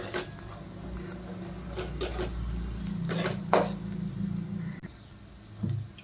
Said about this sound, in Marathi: पावभाजी मसाला हे मसाले आपल्याला आता व्यवस्थित परतून घ्यायचे आहे.